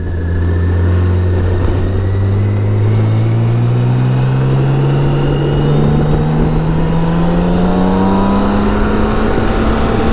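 Steady roaring wind rushes past a rider on a BMW K1600 GT touring motorcycle, with a low engine drone rising slowly in pitch underneath, loud and continuous with no gaps.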